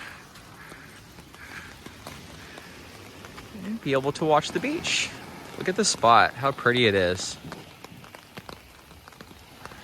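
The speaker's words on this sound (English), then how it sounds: "it is pouring rain" Steady pouring rain patters across the open shoreline at Hearst State Beach, California, a continuous hiss running beneath a person talking in the middle of the stretch.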